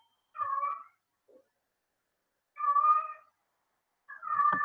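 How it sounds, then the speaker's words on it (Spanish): A pet cat meows three times indoors, each call drawn out and close, separated by pauses of silence, with a faint short chirp between the first two. "Si escuchan a mi gata cantar, es nomás para alegrarles"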